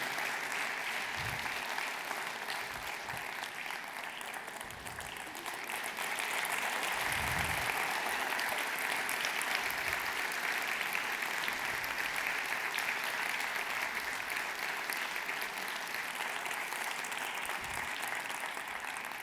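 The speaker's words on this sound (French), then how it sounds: "je vous remercie de les applaudir pour les encourager" Sustained applause from an audience at a New Year's greetings ceremony, cheering on young municipal council members; the clapping is fairly distant and continuous, swelling slightly midway and holding steady.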